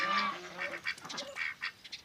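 Domestic geese honk repeatedly on a farm in the early morning, a series of short nasal calls at moderate distance with a faint background and no talking.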